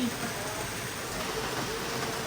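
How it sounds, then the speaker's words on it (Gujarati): Heavy rain pours down in a dense, continuous hiss, steady and close throughout. "અને વરસાદ પડે છે ધબ ધબાટી"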